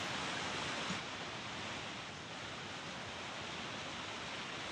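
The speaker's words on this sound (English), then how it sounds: "Are they just standing in the waterfall?" Steady rushing roar of a waterfall in The Sims 4, continuous broadband splashing that holds at an even level throughout with no voices.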